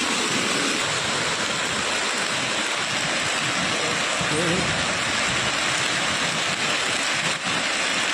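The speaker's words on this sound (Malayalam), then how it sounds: "ഡാമിൽ ജലനിരപ്പ് ഉയർന്നപ്പോൾ ക്രമീകരണത്തിന്റെ ഭാഗമായി വാൽവുകൾ വഴി വെള്ളം തുറന്നുവിട്ടതോടെ പുഴയിൽ ശക്തമായ ഒഴുക്കുണ്ടാവുകയായിരുന്നു" The Chalakudy river at Pillappara, Athirappilly, runs in a strong current after dam valves released water, making a loud, steady, broadband roar of rushing water that fills the whole stretch.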